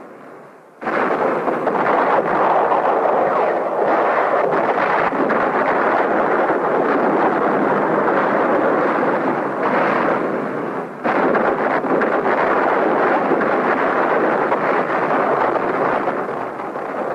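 Heavy artillery bombardment of Khe Sanh, a continuous loud roar of rumbling blasts and rushing noise with a brief dip near the start and another around the middle.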